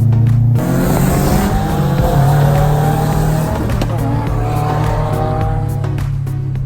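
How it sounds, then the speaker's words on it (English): A supercar engine roars loudly up close with spinning wheels and tire squeal, a continuous throaty drone with rising revs heard from inside the car, no talking. "The sound of this car makes it feel like They're going 100 miles per hour"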